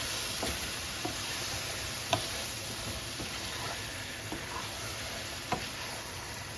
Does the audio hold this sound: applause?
no